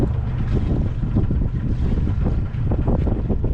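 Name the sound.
boat engine throttled back to idle during anchor test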